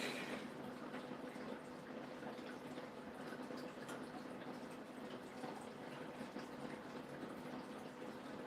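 Structured water sloshes inside a shaken container, making a soft, continuous watery churning that stays faint and even from start to finish.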